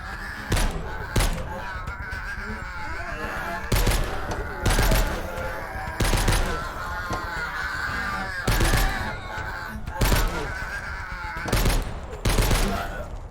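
Sharp bursts of gunfire in the video game She Will Shoot ring out in regular clusters, loud and close, with game-like background noise between shots.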